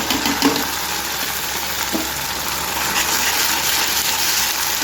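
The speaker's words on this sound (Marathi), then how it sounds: "कांदा आपला तळून झालाय, त्याच्यामध्ये टाकूया ही पेस्ट" Onion-tomato paste tipped into a pan of fried onions, giving a steady, close broadband sizzle that holds evenly throughout with a few faint clinks and no talking.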